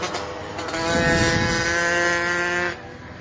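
A race machine on the Croft circuit roars past at close range, its engine note loud and sustained with harmonic whine, swelling then cutting off sharply as the rider backs off near the end.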